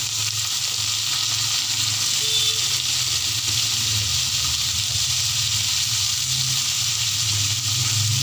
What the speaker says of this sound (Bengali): পেঁয়াজটা যখন লাল লাল করে ভাজা হবে তার মধ্যে ছেড়ে দেব লাউয়ের খোসাগুলো।